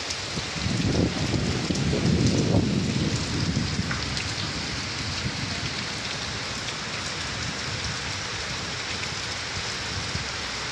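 Heavy rain pours steadily through a night thunderstorm, swelling into a louder rumbling burst early on before settling into a dense, even hiss with no voices.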